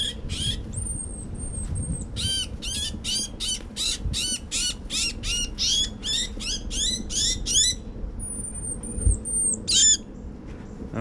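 Tufted titmice call noisily during banding at a nature center: a rapid stream of harsh, scolding chatter and squawks, with a few thin high whistles, close and fairly loud over a low background rumble.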